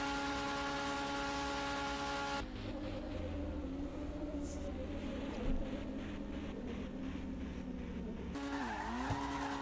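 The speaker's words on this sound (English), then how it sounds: "That's a lot of wheel spin." Sports car spinning its wheels, with loud tire squeal and skidding over a revving engine for several seconds, then the pitch shifting as the car grips and moves off.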